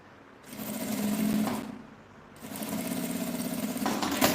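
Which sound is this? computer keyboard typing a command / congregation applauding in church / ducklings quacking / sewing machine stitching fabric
sewing machine stitching fabric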